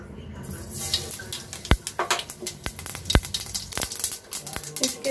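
Mustard seeds crackle and pop in hot oil in a pan, with dense, close sizzling and sharp irregular spits throughout, busy and fairly loud, with no talking.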